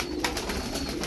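Tumbler pigeons, playful flying birds, coo softly and continuously at close range, a low steady murmur with a slightly louder swell near the start and no talking.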